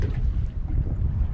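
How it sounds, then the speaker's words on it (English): Steady gusty wind buffeting the microphone at the shore of Lake Macquarie, New South Wales, a continuous low rumble with faint water sounds beneath, no talking. "So it's got just a little bit windy"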